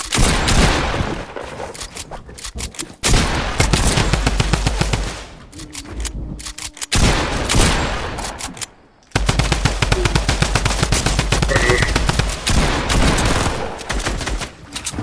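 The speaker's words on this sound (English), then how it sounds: "I swear, I spammed the drum gun, I spammed the sniper" Drum gun and sniper fire in the video game Fortnite: loud, rapid strings of automatic shots broken by brief pauses, up close and dominating throughout.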